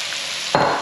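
Bacon frying with garlic in a pan, a continuous close sizzle that swells suddenly louder halfway through as more meat hits the hot fat.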